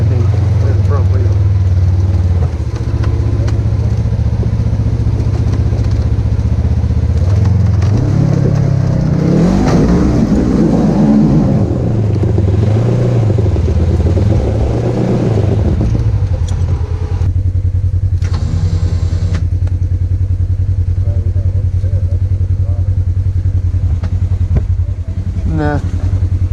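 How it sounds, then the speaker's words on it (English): A four-wheel drive vehicle's engine revs loudly while climbing a hill with a front wheel spinning, a sustained, rising and falling roar close by, with people talking over it. "First comes spinning in front wheel."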